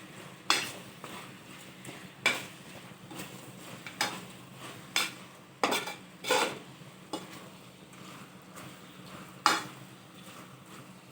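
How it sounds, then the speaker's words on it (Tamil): Chicken curry in a pot being stirred, a spoon scraping and knocking against the metal in separate sharp strokes every second or so over a low simmering hiss. "நல்லா இது மாதிரி கிளறி கொடுத்து கொஞ்சம் நேரம் மூடி போட்டு வேக விடணும்"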